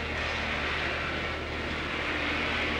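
A helicopter with a black man aboard lifts off, its engine and rotor producing a loud, steady, unbroken roar that fills the whole moment without any speech.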